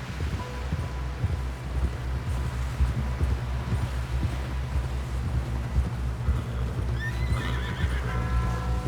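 Hooves thud in a steady galloping rhythm in Red Dead Redemption 2, close and continuous, with a horse whinnying near the end over faint wind.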